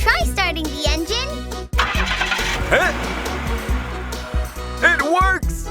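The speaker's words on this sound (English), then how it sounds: "try starting the engine" A cartoon fire truck engine cranks and starts up, a rumbling motor under bright music and cheerful cartoon voices talking.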